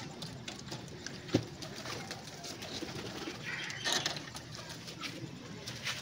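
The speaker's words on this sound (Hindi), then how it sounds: "कबूतर भी आना शुरू हो गए बाहर सारे।" Pigeons let out of a coop on a poultry farm coo softly and intermittently, with faint bird calls and light outdoor background noise around them.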